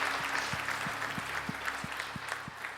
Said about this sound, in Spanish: Dele otro fuerte aplauso al Señor